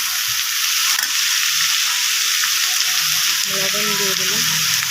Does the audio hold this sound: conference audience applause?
no